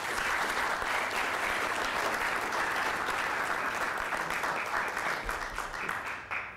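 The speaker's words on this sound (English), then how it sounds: "how about a round of applause" Sustained applause from an audience of residents at a community presentation with federal aviation officials, steady dense clapping filling the room without a break for several seconds.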